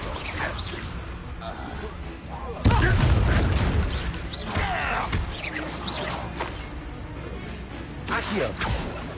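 Confringo fire spells in Hogwarts Legacy go off as booming, explosive blasts, with one heavy crash standing out among the bursts while game voices carry on beneath.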